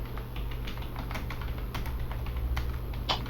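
Steady computer keyboard typing while entering text in InDesign, soft quick key clicks in an even patter over a constant low hum, close but faint, no talking.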